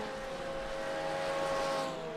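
Sim racing game at Lime Rock with a race car pulling into the pits, its engine a steady, fairly faint tonal drone that holds a constant pitch with a slight rise toward the end.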